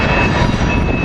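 Train rolling past at 30th Street Station, a loud, steady, close rumble of wheels and cars with a thin high whine above it.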